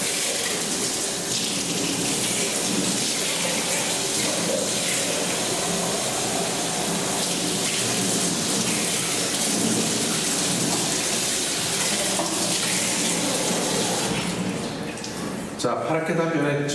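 Naturally dyed fabric with a traditional pattern is rinsed in water, making a loud, continuous rush of splashing and running water that stops abruptly near the end.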